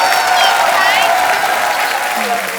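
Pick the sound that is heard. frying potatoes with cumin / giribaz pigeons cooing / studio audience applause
studio audience applause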